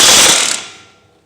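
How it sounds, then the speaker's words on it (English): A ratchet or air tool whirs briefly and loudly while tightening a tie rod on an Acura RSX, a harsh burst of about half a second that quickly fades. "So we're gonna go ahead and tighten down our tie rod."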